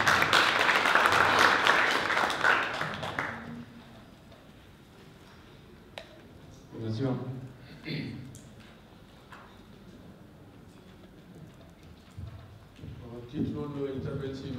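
Audience applause at a business management conference in a hotel ballroom swells at the start, then fades out, after which someone speaks alone over the quiet room.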